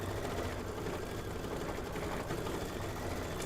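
An embroidery machine stitches a decorative outline on a quilt, a fast, even mechanical chatter of needle strokes running continuously at close range.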